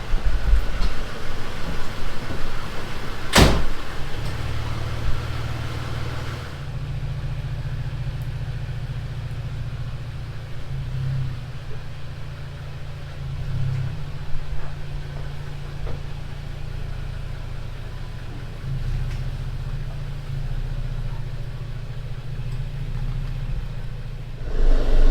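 A 2017 Toyota Tacoma pickup truck idles with a steady low engine drone as it pulls out, after a sharp knock early on, with no talk.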